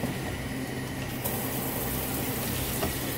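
Steady hiss of water spraying a shower over pet birds, continuous and even, with a slight shift partway through.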